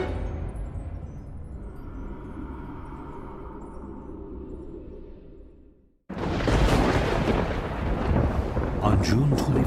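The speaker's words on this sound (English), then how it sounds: "a mighty storm hits Milwaukee" A mighty thunderstorm over Milwaukee: a long rumbling roll of thunder fades out, then a sudden loud crash bursts in and gives way to heavy, sustained roaring noise.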